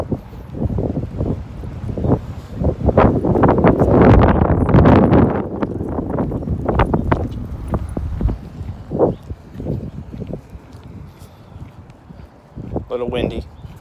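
Gusty wind buffets the microphone with loud rumbling bursts, peaking midway and easing off, with faint rustling in the background.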